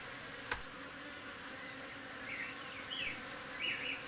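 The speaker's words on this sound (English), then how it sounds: "These katana bees live in a soap nut tree trunk and produce medicinal honey." Katana bees buzz steadily around chestnut blossoms and flowering vines near a soap nut tree trunk, a soft continuous drone with occasional louder passes as individual bees fly close.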